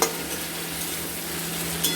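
Tomatoes with a pinch of salt fry in a pan for egg curry (dim kosha), giving a loud, continuous sizzle with stirring and a brief utensil scrape near the end.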